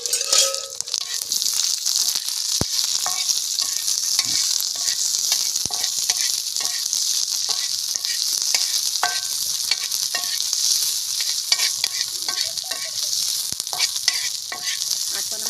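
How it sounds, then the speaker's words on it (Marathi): Chopped onions fry in hot oil over a wood-fired stove for an egg curry, giving a steady, close hissing sizzle with repeated stirring scrapes and occasional knocks throughout, without any talk. "आता यामध्ये आपण कांदे भाजून घेऊया पहिले पहिले आपल्याला कांदा भाजून घ्यायचा आहे"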